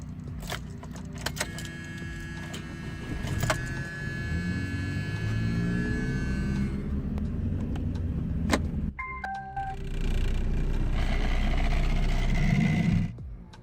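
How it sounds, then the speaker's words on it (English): A 1993 Plymouth Sundance, lacking a factory balance shaft, idles in reverse with a steady close engine drone and heavy vibration, plus a few brief rattles and clicks from the cabin; no one speaks. "when you're idling in drive or you're reversing, it'll vibrate real bad"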